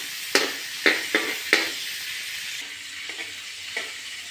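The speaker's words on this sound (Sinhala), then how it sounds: "හරි ඉස්සල්ලාම තෙල් ටික රත් වෙගෙන යනකොට ඔන්න සුදු ලුණු එකතු කරනවා." Garlic sizzles in hot coconut oil, with sharp bursts of spattering as cloves hit the pan and a steady frying hiss filling the gaps, close and fairly loud with no voices.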